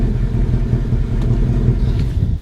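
A Ford Mustang GT sits running at a steady idle, its deep, even rumble close and loud throughout.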